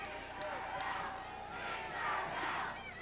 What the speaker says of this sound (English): the crowd gives Rogers a Tinkerbell chant